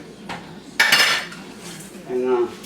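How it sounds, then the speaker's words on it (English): Utensil clinks and scrapes against a glass jar while pickled pork skins are stirred, a few brief clattering knocks and a short ringing clink, close by, no talking. "Give it a stir like this so everything gets mixed into the pork skin."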